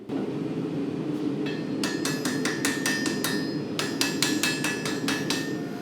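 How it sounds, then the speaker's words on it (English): A hand hammer closes forge welds on a mosaic Damascus steel billet for a Bowie knife, striking in two quick rhythmic runs of ringing metallic blows over a steady background roar. "I used my hand hammer and closed them up"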